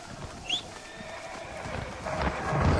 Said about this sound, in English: And there's our horse.